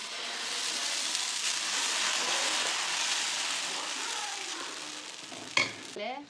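Steady loud sizzling of dosa batter on a hot pan in a village kitchen, a continuous frying hiss that ends in a couple of sharp clinks of metal near the close.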